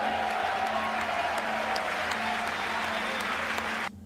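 Steady, dense applause fills a joint session of Congress in a large chamber, sustained at an even level for several seconds before cutting off abruptly.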